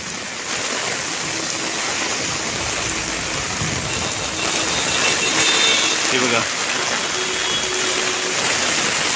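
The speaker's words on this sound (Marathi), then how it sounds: "पाऊस बघा केवढ्या जोरात" Heavy monsoon downpour in Mumbai near Nariman Point, a dense, steady roar of rain on the street that holds loud throughout, with someone talking over it and faint traffic tones.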